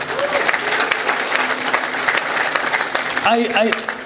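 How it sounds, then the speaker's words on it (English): An audience at a talk gives a round of applause, a loud burst of crowded clapping that holds steady before a voice begins speaking over its tail. "give him a round of applause."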